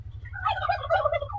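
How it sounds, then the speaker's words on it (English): Turkeys on a central Kansas farm gobble loudly and up close, several overlapping rapid warbling calls over a steady low rumble of wind or machinery. "turkeys, they're all jacked up,"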